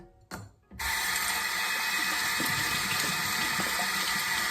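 Running tap water pours steadily and loudly at close range for a face rinse, starting after a brief splash and gap.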